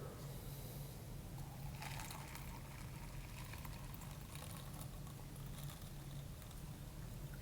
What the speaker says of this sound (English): So let's add a little bit of water.